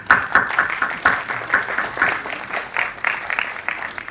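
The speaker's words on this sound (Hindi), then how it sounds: "मैं रिक्वेस्ट करूँ तालियां बजा के" Audience applause at an annual convention stage event, a dense crowd clapping steadily throughout with uneven rhythmic swells, fairly close and sustained, no speech over it.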